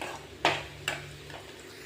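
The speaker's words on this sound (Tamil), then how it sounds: "இந்த அளவுக்கு முள்ளங்கி நல்லா வதங்கிடணும்" Radish sautés in a pan under a low, faint sizzle, broken by two sharp utensil scrapes close together near the start.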